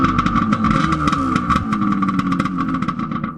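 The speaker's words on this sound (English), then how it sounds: "Fire up the engine." A jet ski engine idles with a steady mid-pitched drone and light mechanical clatter, close and continuous throughout.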